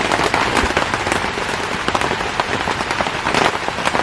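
Heavy rain pounds a camping tent at night in a dense, steady patter of drops, loud and close throughout, with no talking.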